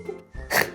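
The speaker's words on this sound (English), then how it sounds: "You just snort." A person gives a short, sharp nasal snort, a brief close burst of breathy noise after a moment of quiet.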